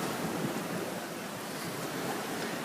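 A sailboat runs under full mainsail and jib in an easterly wind near Venice, with a steady wash of waves against the hull and constant wind buffeting the microphone, moderately loud and unbroken.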